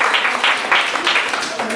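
Audience applause at the Miss Afrique Montréal 2013 contest, following a team's score announcement, a brief dense burst of clapping that swells and dips, with some speech-like noise mixed in.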